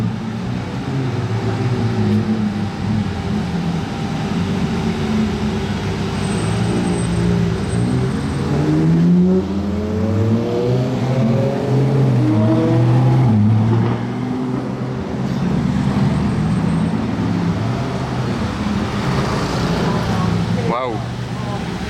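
Supercars, a Brabus-tuned Lamborghini Urus and a Novitec-tuned Ferrari Purosangue, arrive with loud, rising engine sounds, revving and accelerating up close over steady road noise, while people talk in the background.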